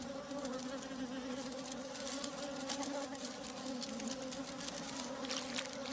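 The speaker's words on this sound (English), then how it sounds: "During the summer months, worker bees tirelessly produce honey for their hive." Worker honey bees buzz in a steady, dense drone with a strong hum, continuous and fairly close throughout, with no voices present.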